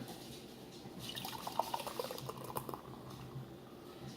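Light beer poured from a container into a glass: a faint, close run of trickling, fizzing and splashing liquid lasting a few seconds, alone without voices.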